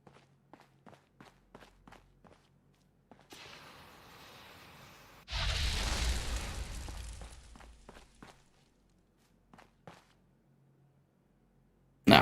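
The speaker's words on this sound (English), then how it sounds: "Now let's set fire to these so we can see what they look like blown up." Sippin' Station items in Fallout 76 catch fire and explode: a sudden loud burst with crackling debris lasting a few seconds, preceded by soft footsteps and a rising rush, then quiet steps and a final sharp crack.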